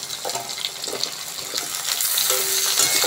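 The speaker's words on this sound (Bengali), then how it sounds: "আলুগুলো ভালো করে ভাজা হয়ে গেছে, এবার এর মধ্যে আমরা দিয়ে দেবো কেটে রাখা বেগুনটা।" Cut brinjal goes into potatoes frying in hot oil, a loud, steady sizzle and crackle that swells as the pieces hit the pan, with faint stirring scrapes and no talking.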